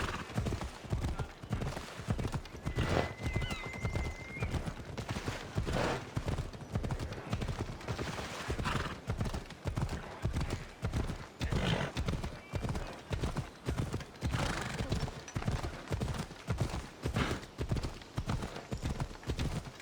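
Galloping horse hooves in Assassin's Creed Odyssey, a fast, even clip-clop rhythm pounding steadily and close, with occasional whinnies over the beat.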